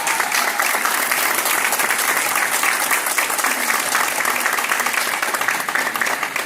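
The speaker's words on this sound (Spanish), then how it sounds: "fuerte el aplauso, fuerte el aplauso" Audience at a medical meeting in Lima applauding a speaker, sustained, even clapping from many hands lasting several seconds at a strong, steady level.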